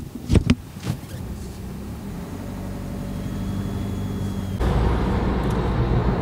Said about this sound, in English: I will get on the road now with the Cactus and tell you about my driving experience